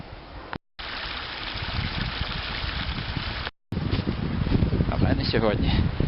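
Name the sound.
stream flowing over a wide floodplain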